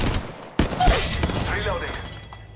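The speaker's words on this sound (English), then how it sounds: "Shooting" Rapid gunfire in Apex Legends Mobile, with a sharp loud burst near the start followed by a decaying rattle of shots and faint game sounds trailing off.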